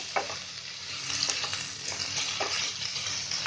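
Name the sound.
tomatoes cooking down into a paste in a pan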